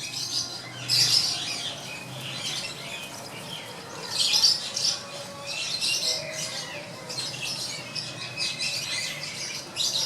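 Teddy high-flyer pigeons call in short, scattered squawks and chirps over a quiet background hiss, moderately close, with several bursts spaced across the stretch.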